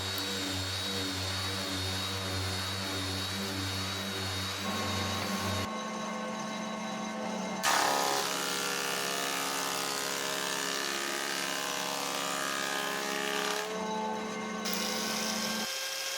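A heavy-duty electric sander works laminated bench-top boards for a Sharpie trailer yacht galley, producing a continuous droning motor whine whose pitch and tone shift a few times as it runs, fairly quiet and steady with no speech.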